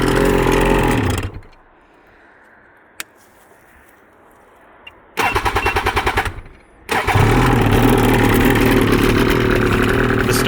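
A 2020 Ski-Doo Summit 154 snowmobile engine runs loudly, drops away to near quiet, gives a short rough burst as it is cranked again, then starts and settles into a steady, close, continuous running drone.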